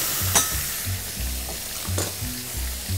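Morel mushrooms frying in melted butter in a pan for a festive poultry dish, giving a steady close sizzle with occasional soft stirring scrapes and pops, no talking.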